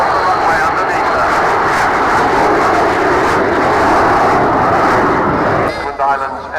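Avro Vulcan bomber taxiing round the runway at Dunsfold, a loud, steady broadband engine roar filling the whole stretch, easing slightly at the end, with a commentator talking over it.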